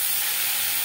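Raw mango pieces, tossed with turmeric and salt, fry lightly in a pan with a steady, close hiss and sizzle that holds constant and alone through a brief moment.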